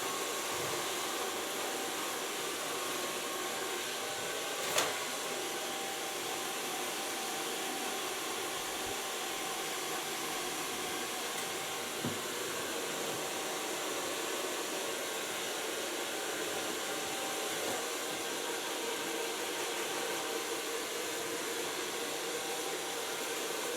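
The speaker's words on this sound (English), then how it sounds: "So far blow drying." A hair dryer blows a steady, even whoosh throughout while hair is blow-dried during a bob-to-pixie cut and color makeover, with one brief click partway through and no talking.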